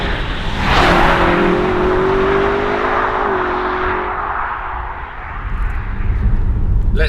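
A twin-turbo V8 BMW M5 Competition (F90, 2019) revs hard and accelerates, a loud rising roar with a steady tonal whine, up close with no talking.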